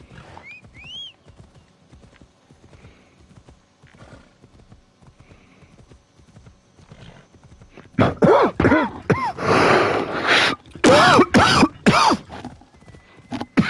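Horse hooves clip-clop rhythmically in Assassin's Creed Odyssey, with a whinny early on, before a louder burst of heavy galloping and crashing effects takes over near the end.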